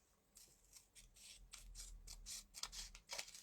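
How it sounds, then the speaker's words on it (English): Scissors snip through the rolled paper end of a handmade boho bead for a junk journal, a close run of crisp, rhythmic cuts with faint rustling between them. "you can just come in with your scissors, trim that up if you want"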